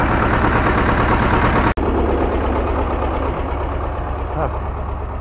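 The engine of a homemade mini tractor built from scrap metal runs at a loud, steady chug with a slight knock while harrowing damp garden soil, broken by one sharp click.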